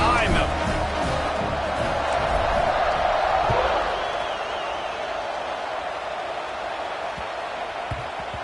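A large stadium crowd roars at a college football kickoff in a video game, the swelling cheer peaking early and then easing into a steady murmur with a few thuds.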